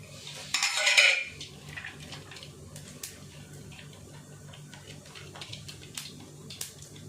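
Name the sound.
mustard seeds and lentils frying in oil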